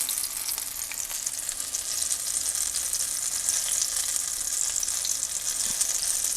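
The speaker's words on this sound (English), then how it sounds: "Now I'm just going to take a spoonful of this mixture and just put it down in the oil" A spoonful of apple fritter batter fries in hot oil with a steady, close sizzle and crackle that continues without a break.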